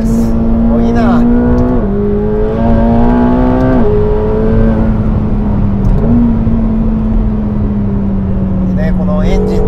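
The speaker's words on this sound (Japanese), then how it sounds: "このエンジン全開時のねエキゾーストノートもねレーシングサウンドといってもいい音色を奏でてますよね" A 2025 McLaren 750S engine roars at full throttle on a winding road, its pitch climbing steeply, dropping briefly at each gear change, then climbing again. Loud and close throughout.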